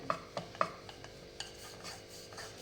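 A wooden rolling pin rolls out floured chapati dough in a home kitchen, giving soft rubbing strokes with a few sharper knocks and taps at uneven intervals, close and quiet, with no talking.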